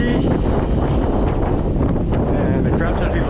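Strong wind buffeting steadily on a rocky shore in Okinawa, Japan, a continuous loud roar with no breaks.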